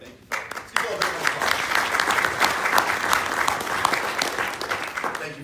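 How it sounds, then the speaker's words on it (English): Conference audience bursts into applause after a brief pause, dense steady clapping from a large crowd that continues for several seconds. "applause."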